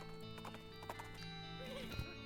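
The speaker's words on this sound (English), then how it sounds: "I love how your horse is basically running in a circle." A horse's hooves clip-clop rapidly in the West of Loathing video game as it runs around in a circle, a light rhythmic patter over steady game music.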